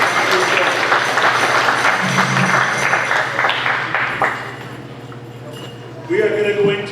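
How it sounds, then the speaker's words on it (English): A crowd at the Thunderinghillz 2017 powwow at Danceland, Manitou Beach, Saskatchewan claps in a dense burst that fades after a few seconds, and an announcer's voice is heard over and after it. "So let's give him a nice round of applause."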